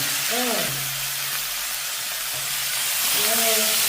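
Beetroot is frying with sautéed onion in a home kitchen pan, giving a steady close sizzle with stirring, while a voice hums or speaks briefly near the start and near the end.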